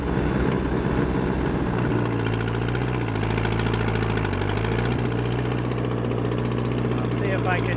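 An Allis D14 tractor engine drones steadily and loudly with a brush hog mower running behind it through high weeds, the pitch dipping and recovering slightly under load.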